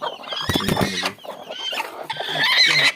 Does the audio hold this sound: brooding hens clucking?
yes